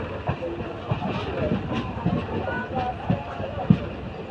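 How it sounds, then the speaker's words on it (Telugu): A Vande Bharat train rolls slowly near Vijayawada station, giving a steady rumble with periodic wheel clacks about every half second at moderate distance, while indistinct voices murmur in the background. "చాలా స్లోగా వెళ్తుంది. సో అది వందే భారత్ అనుకుంటా"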